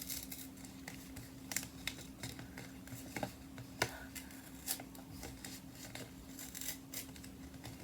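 Scissors snip a printed paper photo for a K-pop scrapbook journal in a quiet room, giving a close, irregular run of small crisp cuts and rustles over a faint steady hum.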